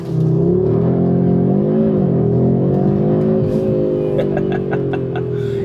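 A 2025 Audi RS3 in dynamic mode launches hard from inside the cabin, its engine note rising loudly and steadily through the gears with a continuous close roar.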